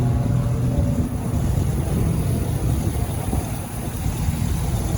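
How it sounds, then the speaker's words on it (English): A 2019 Chevrolet Express 2500 cargo van with a Vortec engine runs at idle, a steady, close, low rumbling drone with constant loudness and no talking. "It's a Vortec engine."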